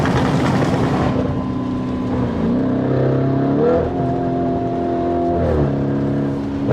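2022 Harley CVO Road Glide motorcycle engine rumbling loud and close while riding, a deep throbbing drone with rising and falling pitch as the throttle shifts.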